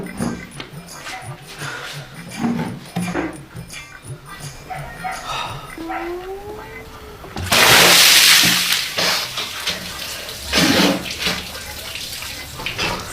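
Water poured in a steady, rushing splash for about two seconds in a home, rising suddenly out of a background of casual talk and household noise, with voices continuing around it.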